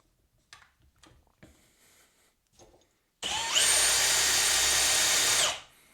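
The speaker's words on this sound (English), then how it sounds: "we've got this Warn cordless drill winch. So this thing is powered by a drill" A cordless drill drives a Warn drill-powered winch, a loud steady whine lasting about two seconds after some soft clicks and handling taps.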